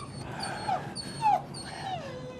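A puppy whimpers and whines in a quiet indoor scene, with several rising and falling high-pitched cries at close range and no talk over them.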